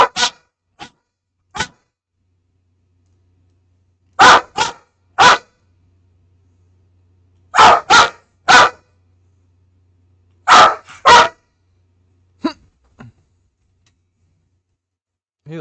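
A dog barks in short bursts, mostly pairs and triplets of sharp barks separated by silent pauses, close and loud.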